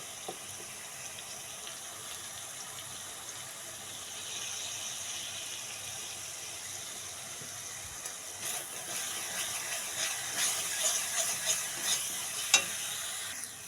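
Spice paste fries in a pan for a pointed gourd and coconut milk curry, starting as a soft, low sizzle. After about eight seconds it grows louder with scraping stirring strokes and crackling.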